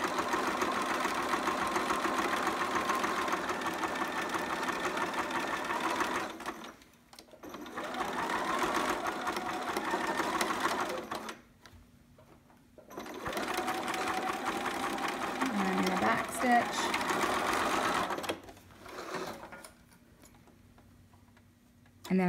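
A sewing machine runs in three long bursts as it stitches elastic around a child's sitter romper, with a steady, close-up mechanical whir that pauses briefly between passes.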